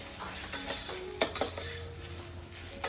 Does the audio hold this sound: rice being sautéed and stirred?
yes